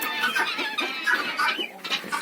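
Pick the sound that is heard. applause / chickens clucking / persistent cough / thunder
chickens clucking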